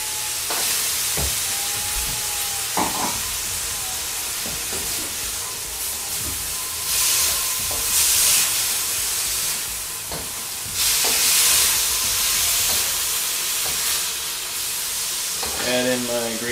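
Beef sizzles loudly in a hot pan for beef with broccoli, a steady frying hiss with rising surges of steam and occasional scraping clinks of stirring throughout.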